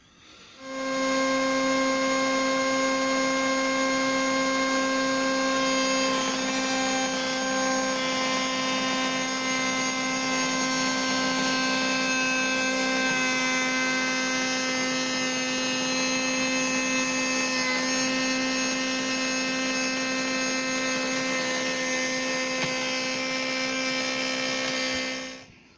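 A router makes a final pass cutting a lock mitre joint in oak, a steady, even motor whine that runs unbroken for about twenty-five seconds with no talk.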